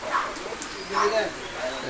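Domestic pigeons at a weekly pigeon market give soft, brief coos and calls at close range, heard over the murmur of a crowded outdoor market with people talking.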